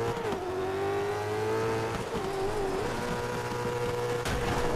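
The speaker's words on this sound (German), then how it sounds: "Und Vollgas drauf zu." Rally car engine in the DiRT 3 video game held at full throttle, a loud steady rising drone with brief dips in revs, constant and close throughout.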